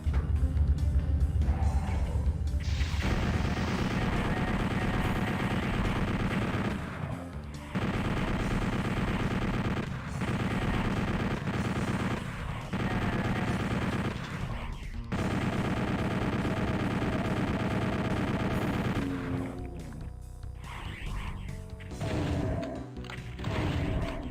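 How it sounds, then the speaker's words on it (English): Gunfire from Doom (Eviternity) played with swapped-in shooting sound effects: loud, nearly continuous rapid shots and blasts over heavy game music, with brief gaps between volleys. "I use different shooting sound effects."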